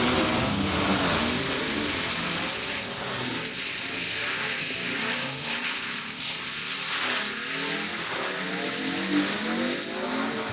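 A BMW drifts at full throttle on a race track, its engine roaring steadily with tire noise and revving swells throughout, loud and close with no voices.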